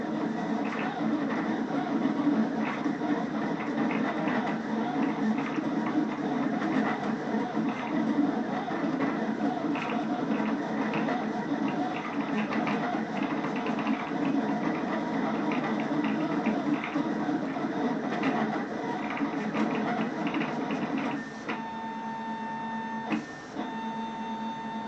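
A vinyl cutter machine cuts a sticker design, a steady mechanical whir with rapid stepping clicks that continue without a break. A small shift in tone comes near the end, and there is no talk.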